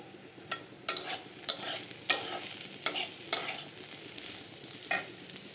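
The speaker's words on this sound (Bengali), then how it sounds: "আর এইদিকে হচ্ছে আলু ভাজা।" Potatoes frying in a pan, a soft background sizzle broken by repeated scraping strokes of a spatula, roughly one every half second to second, fairly close and otherwise quiet.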